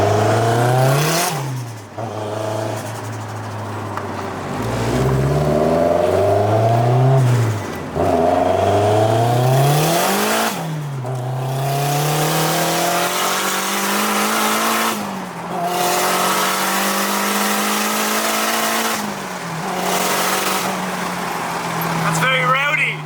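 A K20-engined Ford Cortina revving hard, each loud, rising blip climbing and falling back with short pauses between, sometimes with tyre squeal and voices over it.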